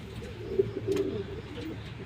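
Racing pigeons coo softly at close range, a low rolling murmur of several birds that carries on steadily through a short stretch with no talk.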